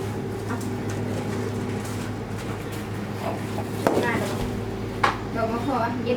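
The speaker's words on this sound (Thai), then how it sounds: "ต่อมาครับผมเราก็จะมาหั่นคะน้าครับผม" A knife chops Chinese kale on a cutting board while preparing it to sell at a made-to-order food stall, with faint scattered cuts and a couple of sharper knocks under a steady background hum.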